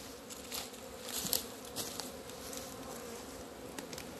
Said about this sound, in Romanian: vreau să vă arăt stupul termic din Republica Moldova